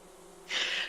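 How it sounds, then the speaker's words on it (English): A swarm of bees buzzing as a tabletop game sound effect, a sudden loud, steady droning hum that starts midway and continues alone. "Sure, you could try to scare these bees."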